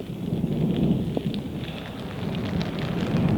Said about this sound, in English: there goes that storm cell over there.